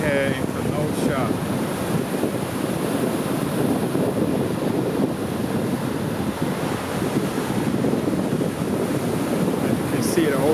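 Rough lake waves churn along Kenosha beach on a windy day, a loud continuous wash of surf mixed with heavy wind buffeting the microphone throughout.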